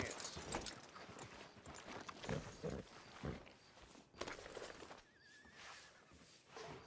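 A horse in Red Dead Redemption 2 neighs and whinnies up close, with hooves clip-clopping in an uneven rhythm and a voice heard faintly.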